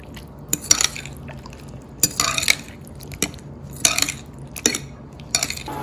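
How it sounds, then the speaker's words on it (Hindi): Spanish omelette egg mixture with coriander stirred in a bowl, bursts of brisk metal clinking and scraping recurring every second or so, close and clear with quiet pauses between. "अब इसमें धनिया आप डाल लें, इसको मिक्स करें अच्छी तरह से।"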